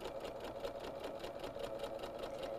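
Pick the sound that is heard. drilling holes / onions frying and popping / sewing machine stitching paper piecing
sewing machine stitching paper piecing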